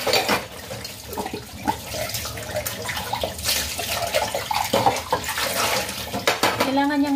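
Water runs from a hose in a steady, splashing stream onto a hard surface outdoors. It is loud and continuous, with spattering and gurgling throughout, and a voice speaks faintly underneath.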